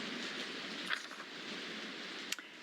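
Steady rain falls outdoors around news reporters, a faint, even hiss that fills the whole stretch, with a couple of brief small taps and no talking.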